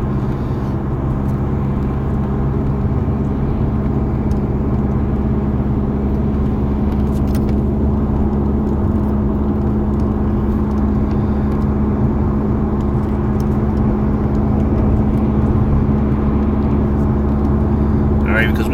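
A car is driven at a steady pace, giving a continuous low engine rumble and road noise heard from inside the cabin, with a voice speaking intermittently over it.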